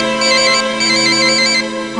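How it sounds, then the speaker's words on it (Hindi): A phone ringtone in a Hindi TV serial plays loud and close as a bright, repeating electronic melody that runs steadily for a couple of seconds with no talk over it. "राजेश्वर का फोन है।"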